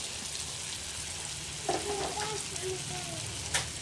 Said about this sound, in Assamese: সেইকাৰণে অকণমান ভালদৰে ভাজ খাবলৈ দিম